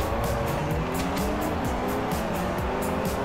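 Race car engine roaring at speed in the Forza Horizon 2 racing video game, a continuous loud drone with shifting pitch and brief tire squeal, no talk.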